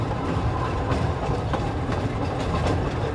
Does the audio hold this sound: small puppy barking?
no